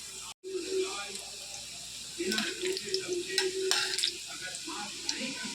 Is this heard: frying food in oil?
yes